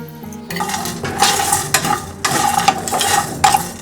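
Spices such as fennel, garlic powder, chili, black pepper and turmeric stirred while dry roasting in a pan over slow heat: scraping spoon strokes in uneven bursts with light metallic clinks, close and clear.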